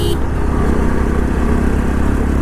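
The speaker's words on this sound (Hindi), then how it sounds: "इसके एग्जॉस्ट की साउंड तो बहुत ज़्यादा है।" Modified Bajaj Pulsar 200 DTSI with a loud aftermarket exhaust cruising in fifth gear, a continuous close engine drone with wind roar and no break.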